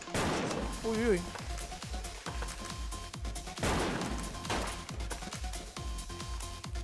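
Repeated gunshots from a WolfTeam match crack in sharp bursts and scattered single shots over a busy game soundscape, while someone commentates briefly over the action.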